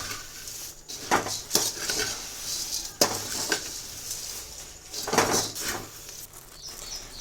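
Puffed rice roasting in a pan while being stirred, with repeated metallic scrapes and clinks of a spoon against the pan over a light dry rustle, close and moderately loud, no voices.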